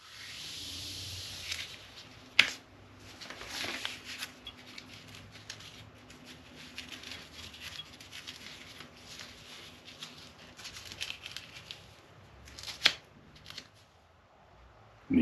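A neoprene fork gaiter is worked onto the fork of a 2022 Royal Enfield Himalayan motorcycle, giving soft rubbery rustling and sliding friction with a couple of sharp clicks, close and quiet.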